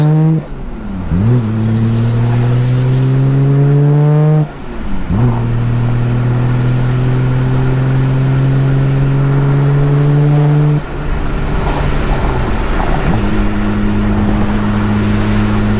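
Inside a Nissan R32 GTR with a mild power package, the engine drones loud and close while cruising, its pitch rising through each gear and dipping at three or four shifts, with no talking.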